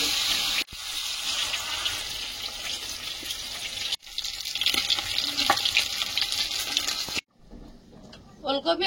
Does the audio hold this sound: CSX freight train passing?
no